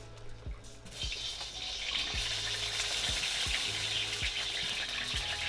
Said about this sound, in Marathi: कढईमध्ये थोडंसं तेल घालायचं आहे आणि थोड्या तेलावर ही वांगी छान परतून घ्यायची आहेत